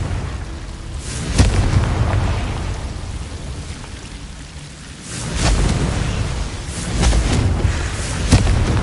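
A Confringo blasting spell from the Hogwarts Legacy game goes off in several loud booming bursts, each one swelling and then rumbling away into a noisy, rain-like wash with no voice over it.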